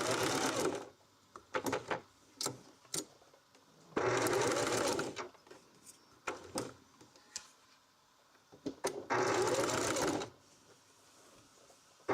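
A sewing machine stitches a rope coaster in loud bursts of rapid mechanical whirring, each lasting about a second, separated by quieter pauses with light clicks and handling noises.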